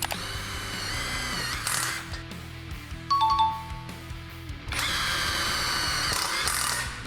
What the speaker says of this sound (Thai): ก็ประมาณนี้สำหรับการยิงสกรูปลายสว่านนะครับ